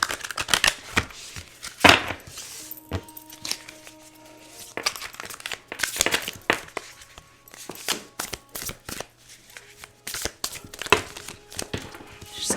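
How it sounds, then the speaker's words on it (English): Crisp riffling and slapping of cards being shuffled in bursts, close up, with a faint steady hum in the background. "I am going to put that back in. I'm going to shuffle."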